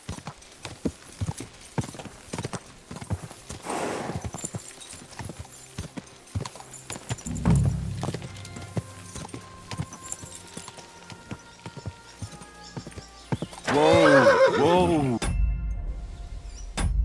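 Horse in the medieval game Kingdom Come: Deliverance 2, with a steady run of clip-clopping hooves, a snorting, whinnying burst near the end, and bits of talk in between.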